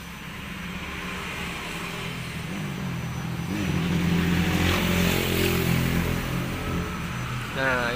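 A Yamaha Jupiter Z1 motorcycle engine with a loose, overheated piston idles and revs roughly, a dense continuous mechanical rumble with knocking texture, close and loud throughout.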